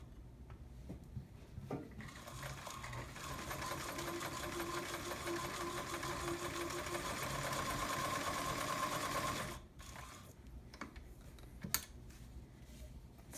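An Omega Ultra 2000 sewing machine runs a zigzag stitch in a steady, loud mechanical whir for about eight seconds, then stops, leaving a few small clicks and handling noises close by.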